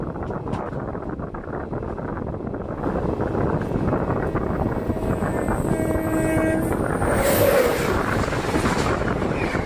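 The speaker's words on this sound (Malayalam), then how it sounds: "train number 17308 Bagalkot Mysore Basava express ആണ് ഇപ്പോൾ ആ കടന്നുപോയത്" A passing express train, the Bagalkot–Mysore Basava Express no. 17308, rumbles steadily and loudly past a moving train, with a continuous rail roar, wind noise and a brief horn-like tone midway, no voices.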